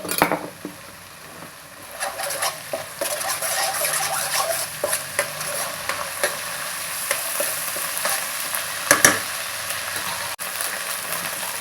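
Ginger garlic paste frying in hot oil with turmeric for mutton sukkha, a steady close sizzle broken by frequent clinks and scrapes of a spoon against the pan, with no talk.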